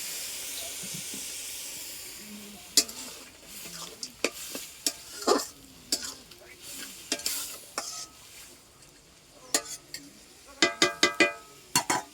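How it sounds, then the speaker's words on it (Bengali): Food cooks in a pot on a clay wood-fired stove (unun): irregular metallic stirring knocks and scrapes over a soft, steady sizzle, ending in a quick cluster of clinks. "এই উনানে রান্না করছি দেখো"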